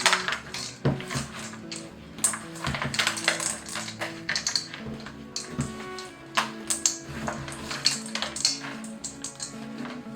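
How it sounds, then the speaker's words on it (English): Chocolate chips being worked into cookie dough in a bowl, a busy run of close clicks, scrapes and soft knocks with an uneven rhythm and no talking. "And then we're just going to mix the chocolate chips into the dough."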